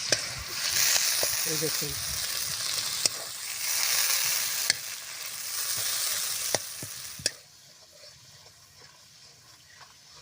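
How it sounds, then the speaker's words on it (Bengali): Ghee heating over a low flame in a pan with lime (lemon) leaves gives a steady, close frying sizzle and hiss that stops abruptly near the end. A voice speaks briefly over it. "এবার জাল দিয়ে আস্তে আস্তে জাল দেব।"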